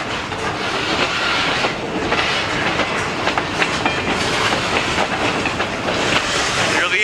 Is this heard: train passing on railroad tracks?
yes